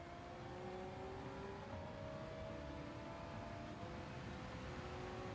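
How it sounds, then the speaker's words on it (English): A race car engine in Gran Turismo 7 drones steadily at high revs, its pitch shifting slightly as it holds speed, loud and continuous with no talking. "Listen to the sound of that engine."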